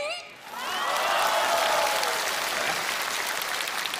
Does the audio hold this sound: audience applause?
yes